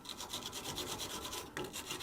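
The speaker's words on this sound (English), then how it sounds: "I'm cleaning the thread because I need this castellated nut to be able to undo" Close, quiet scraping rasps against the thread of a 2007 Ford Ranger 2.5 track rod end as it is cleaned, with rapid repeated rubbing strokes, a short pause, then more scrubbing.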